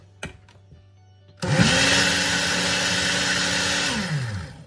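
A kitchen blender whirring through orange hummus: a couple of faint knocks, then the motor kicks in loudly and runs steadily for about three seconds before winding down, close by and alone.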